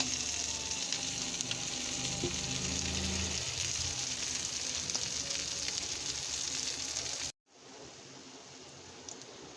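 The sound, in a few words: fish frying in oil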